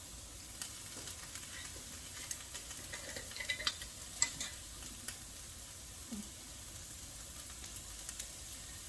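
Vegetables with seasoning are stirred in a pan, a faint low sizzle running steadily beneath quiet scraping and clinking utensil taps scattered through the clip.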